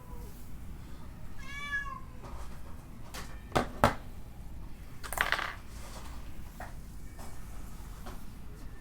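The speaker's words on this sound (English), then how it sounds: "This fucking cat." A cat gives a clear, rising meow early on, followed by sharp clinking and knocking sounds, with a faint room hum underneath and no voices.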